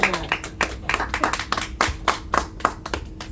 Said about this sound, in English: a warm round of applause for Dola for organizing this event